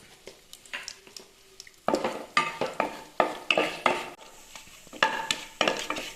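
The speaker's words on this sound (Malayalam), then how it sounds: "ഇനി ബട്ടറിൽ കിടന്നിട്ട് നന്നായിട്ടൊന്ന് മൂക്കട്ടെ ഇതിൻ്റെ കൂടെ ഒരു അര ടീസ്പൂൺ നല്ല ജീരകം ഇട്ട് കൊടുക്കാം" A spatula scrapes and knocks rhythmically through cumin seeds frying in butter in a pan. The close strokes repeat roughly every half second over a light sizzle.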